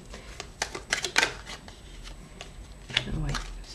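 Oracle cards shuffled and drawn by hand, a few quick papery riffles and slides in short bursts, close and moderately loud, with a voice speaking around them.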